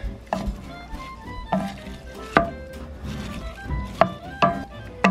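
Onions and apples stirred in a hot pan while cooking for blood sausage: a steady low sizzle broken by a handful of sharp scraping knocks from the utensil at irregular intervals, close up and without talk.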